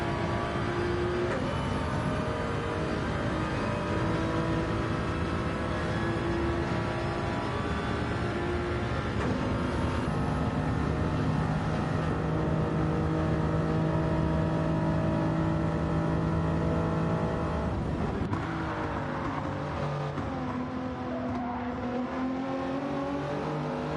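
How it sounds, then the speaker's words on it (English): A Toyota GT3 race car on the Daytona road course engine climbs and holds through sustained revs, a continuous loud engine drone with shifting pitch and no talk over it. "You can really hear this Toyota crank up."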